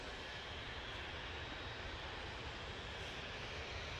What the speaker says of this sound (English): Next out, Jet 2 off to Dalaman, Boeing 737-800 GJZHY is the reg